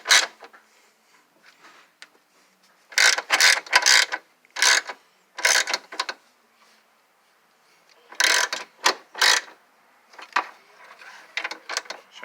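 A hand ratchet cranks a bolt on a 1990s Toyota A/C compressor bracket, loud close bursts of rapid clicking separated by pauses, several runs in a row.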